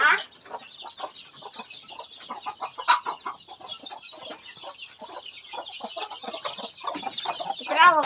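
Chickens cluck continuously on a farm, a busy, overlapping chatter of several hens close by that swells and fades over the stretch and grows louder toward the end.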